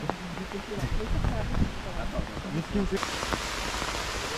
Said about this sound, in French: Tempête. Il pleut.